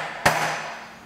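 A single sharp metallic tap of a hammer on a drift, seating a seal during the engine rebuild of a 1978 Vespa P200E scooter, close and loud with a short ringing decay.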